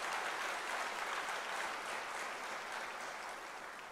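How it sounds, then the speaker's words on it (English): An audience at a university's academic year opening ceremony applauds, the clapping forming a steady wash. It stays fairly distant and even, easing off a little near the end, with no voices heard over it. "I think it requires a round of applause."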